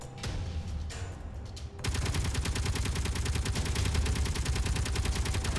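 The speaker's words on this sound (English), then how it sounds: "Oh, another firefight." Video-game firefight with rapid gunfire: after a quieter start, a dense rattle of automatic shots breaks in and continues loud and unbroken to the end.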